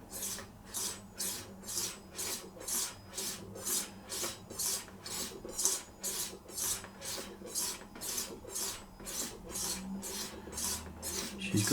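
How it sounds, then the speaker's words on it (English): A straight razor strokes back and forth on an old leather strop, a steady rhythmic rasping swish repeated about twice a second, close and clear with no talking. "Let's give it a quick whirl on the old strop to see if you can hear it stringing a bit."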